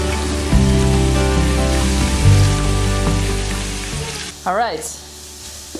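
Leeks and garlic sizzling in a hot pan, a loud steady fry that carries on for several seconds before a clatter of stirring and a brief spoken word near the end.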